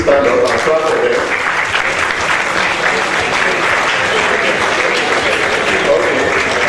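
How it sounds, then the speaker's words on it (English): A standing audience at a geography alumni lecture and award ceremony claps loudly and steadily for graduates, with a dense wash of applause and voices murmuring underneath. "2020s, please stand up and clap for them."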